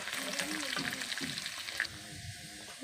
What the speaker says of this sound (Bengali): আমি ফুটিয়ে রাখা রসুনগুলো তেলের মধ্যে দিয়ে দিলাম এবং এগুলো ভালো করে লাল করে ভেজে নিব